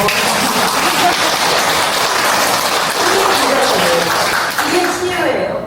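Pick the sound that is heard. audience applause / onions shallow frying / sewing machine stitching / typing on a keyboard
audience applause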